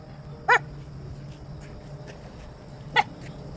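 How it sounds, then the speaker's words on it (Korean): A small dog gives two sharp, high yaps a few seconds apart over quiet outdoor background noise. "얘가 낯선 사람은 좀 짖는데 물진 않아요"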